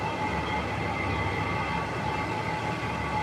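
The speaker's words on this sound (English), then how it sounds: "I can hear him closing the doors" The operator closes the gates of an Erie Canal lock, and the machinery makes a steady mechanical drone with a thin whining hum that holds at an even level throughout.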